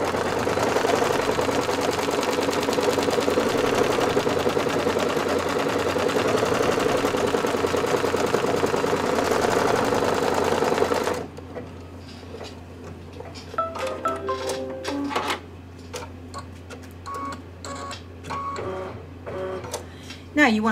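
A home embroidery machine stitches a Kimberbell lamb nativity design with a loud, rapid, continuous mechanical whir for about eleven seconds, then stops, leaving quieter clicks and handling noises with a person talking.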